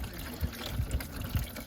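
Old coolant draining out of a Massey Ferguson 1010 tractor, a faint, steady trickling pour with small splashy bursts.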